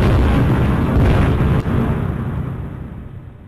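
A 16-inch (400 mm) battleship gun fires in one loud, rumbling blast that holds heavy and broad for about a second and a half, then rolls off into a long, slowly fading reverberation with no voices.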